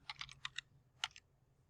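Brisk typing on a computer keyboard while dimension-style settings are entered in drafting software: a quick cluster of five key clicks, a pause, then two more sharp taps, close and alone.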